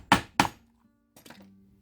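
Hammer striking rivets being set in leather while making a Celtic purse: two sharp, loud, close thunks in quick succession, then a quieter pair of taps after a short pause.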